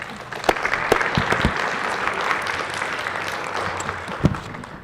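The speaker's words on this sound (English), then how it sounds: "please give him a round of applause" A Senate gallery audience applauds, a brief burst of clapping from a modest crowd with a few sharp individual claps standing out before it tapers.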